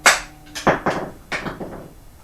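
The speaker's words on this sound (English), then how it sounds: "on the other end of the screwdriver, we're just going to give it a snap with a hammer." Several sharp metallic hammer taps on the end of a screwdriver, about five quick strikes in an uneven rhythm, close and fairly loud, while removing drum brakes on a 2017 Toyota Corolla.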